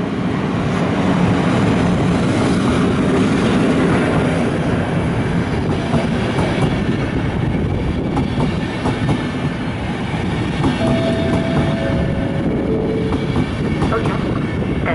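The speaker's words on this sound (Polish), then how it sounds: "przy peronie drugim przejdzie pociąg pośpieszny bez zatrzymania" An express train runs through a Polish railway station at platform two without stopping, a loud, steady rumble with rapid wheel clatter lasting throughout, while a station announcement and voices sound faintly in the background.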